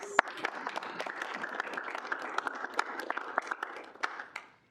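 Room of students at a student senate meeting claps for a speaker, a brisk patter of individual hand claps from a modest group, fairly close and alone, stopping abruptly at the end.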